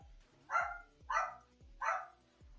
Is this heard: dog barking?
yes